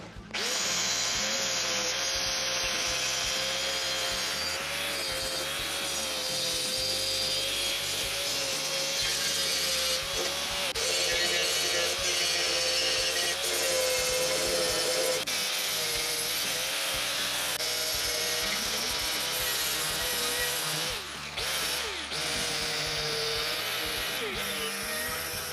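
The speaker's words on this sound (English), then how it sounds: "Just going to grind all that back now." Angle grinder grinding back welds on a retro rallycross car in a workshop, a continuous loud abrasive whine held steady with slight pitch wavers for the whole stretch, close to the microphone.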